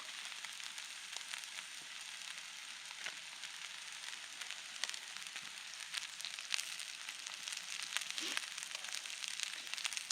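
Hash browns frying in butter on a small camp stove in an outdoor micro kitchen, a soft steady sizzle with scattered crackles and pops, fairly quiet and unbroken.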